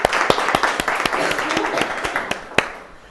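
An audience claps in a short, uneven burst of applause, with sharp individual claps standing out and then thinning quickly as it dies down.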